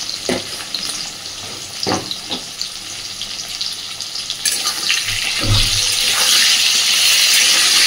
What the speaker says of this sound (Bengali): এই পর্যায়ে আলুর মধ্যে সামান্য একটু লবণ দিয়ে দেব, যাতে আলুটা সুন্দরভাবে ভাজা হয়